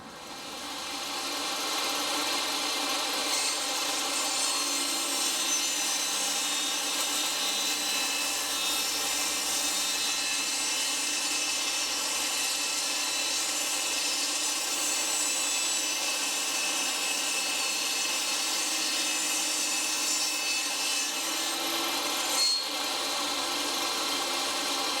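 A power saw cuts wood for a birdhouse, a loud, steady, continuous whine that holds at the same level for the full stretch, with a brief knock near the end.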